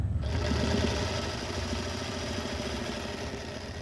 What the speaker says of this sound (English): I back stitch whenever I start sewing, and also when I end